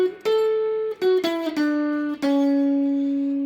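Solo guitar plays the opening of a song: a few plucked notes and chords, each ringing and sustaining, the last one held long and clear, close and alone with no voice.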